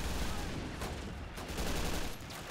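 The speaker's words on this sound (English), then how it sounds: "Drop your fucking useless piece of shit pistol and just start firing" Dense, sustained gunfire from a Men of War: Assault Squad 2 battle, rapid overlapping shots forming a loud continuous fusillade with a few heavier bursts, no one speaking.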